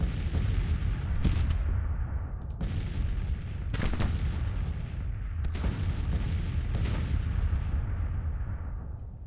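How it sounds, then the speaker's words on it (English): Artillery in the Civil War strategy game Grand Tactician rumbles continuously, with repeated heavy booms and sharp cannon reports every second or two over a dense low roar of battle. "He's going to be under a lot of artillery fire to start."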